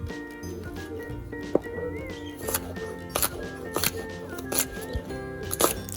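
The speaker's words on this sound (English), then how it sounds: "I prefer cutting it into very thin slices, just like this." A knife cuts cabbage into very thin slices on a board, making crisp, fairly regular crunching chops close up, over a faint background hum.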